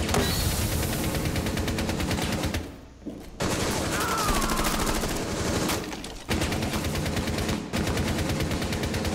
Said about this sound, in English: I was getting shot from two different directions?